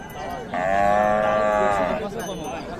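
A Friesian cow gives one long, loud moo lasting over a second at a cattle market, with faint background murmur before and after.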